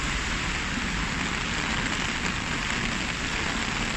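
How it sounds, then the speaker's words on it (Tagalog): Heavy typhoon rain pours down steadily outside a school, a dense, constant roar of downpour on surfaces that stays loud and unbroken throughout, with no voices. "Ang lakas ng ulan mga guys,"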